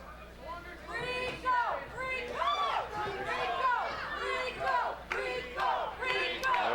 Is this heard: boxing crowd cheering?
yes